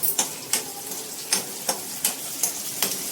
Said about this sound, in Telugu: ఇప్పుడు నూనె వేడెక్కిన తర్వాత నేను ఆనియన్ అందులో అంటే ఉల్లిపాయలు అందులో వేసానండి